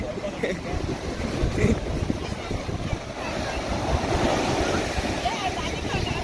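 Sea waves surge against the Tiruchendur shore in a loud, continuous wash and roar mixed with gusty wind buffeting the microphone.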